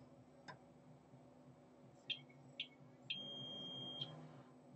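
A multimeter in continuity mode beeps while probing an iPhone 6 logic board during a WLAN chip microsoldering repair: two short chirps followed by one sustained tone of about a second, faint and close, with no voices.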